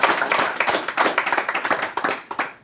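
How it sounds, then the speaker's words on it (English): An audience at a crypto conference claps for a speaker, a dense burst of close, fast hand claps that runs throughout without cheering. "Please give a massive round of applause to Felix"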